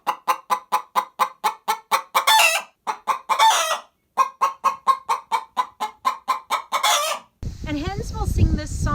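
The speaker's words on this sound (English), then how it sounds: "chickens can be really noisy when it comes to egg laying. So you might have heard of the egg song." A hen sings the egg song near laying: a loud, close run of regular clucks broken by drawn-out squawking calls. The clip ends with a brief, different burst of sound.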